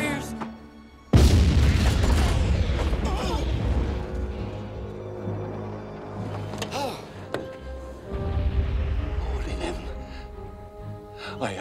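A cannon fires with one loud, close boom followed by a long rumbling decay, with a shouted command and other voices in the scene.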